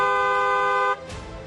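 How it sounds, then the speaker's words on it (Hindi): A car horn blares in one steady, loud, close honk that cuts off abruptly, leaving background street noise. "जानकारी वाला हॉर्न बजाएं।"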